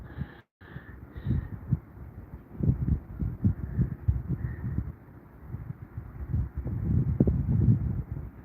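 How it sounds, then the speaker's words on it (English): Gusty wind buffets the microphone on a walk by Lake Hallie, a low rumbling roar that swells and eases in waves and grows stronger toward the end, with a faint steady tone above it. "the wind seemed to pick up a little bit"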